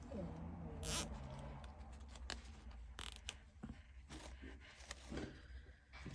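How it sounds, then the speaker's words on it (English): A zip tie around a bundle of craft stems is ratcheted tight and snipped with a small handheld cinching and cutting tool, giving a series of zipping clicks and sharp snaps up close, with some speech-like sound in the mix. "It cinches your zip tie and cuts it off."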